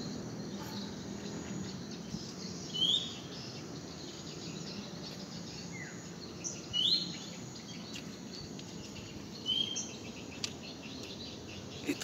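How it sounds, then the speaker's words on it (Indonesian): Short bright calls of a Bali myna ring out three times at intervals over a steady background of insects and ambient hum, moderately distant, near an aviary. "Itu jalak barunya keluar. Jalak balinya"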